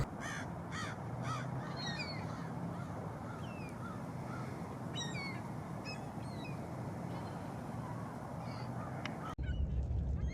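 A large flock of gulls, flushed by a bald eagle, calls continuously as the birds circle overhead, with many overlapping harsh, squawking cries of varying distance layered over a steady outdoor rumble.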